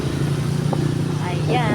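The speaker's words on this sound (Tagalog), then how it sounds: "Ay, may ibang mga sasakyan dumadaan." Vehicles pass along a roadside, a steady engine rumble that swells as a motorbike or car goes by close, while a person talks over the traffic noise.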